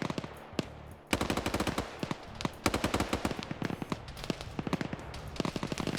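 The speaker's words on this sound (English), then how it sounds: "Now they're taking fire from the Overwatch point here." Rapid bursts of automatic gunfire ring out in a tactical shooter match, dense clattering volleys with sharp individual shots, loud and close, continuing throughout with brief gaps.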